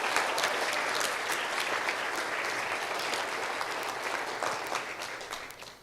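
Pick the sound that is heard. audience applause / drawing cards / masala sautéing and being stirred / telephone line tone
audience applause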